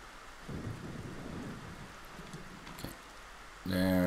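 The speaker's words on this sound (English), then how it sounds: "Oh, it starts raining." Steady rain hisses and a low thunder rumble rolls through a stormy sea scene in the video game Zelda Wind Waker, the downpour constant and moderately loud before a brighter tonal burst at the end.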